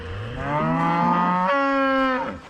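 Cattle on a pasture give a long, loud, close moo with a drawn-out, wavering tone, heard alone for about two seconds.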